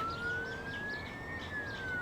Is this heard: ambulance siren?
yes